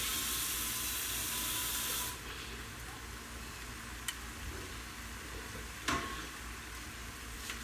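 Water run onto a hot skillet after searing scallops and shrimp gives a loud steady hiss that drops to a softer steaming hiss, with a couple of brief clinks.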